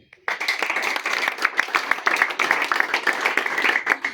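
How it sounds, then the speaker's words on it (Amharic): A church congregation claps together in a loud, continuous burst of applause that starts abruptly and keeps a steady rhythm, with faint voices mixed in. "በደንብ አጨብጭቡ።"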